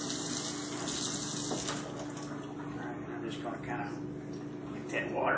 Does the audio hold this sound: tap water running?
yes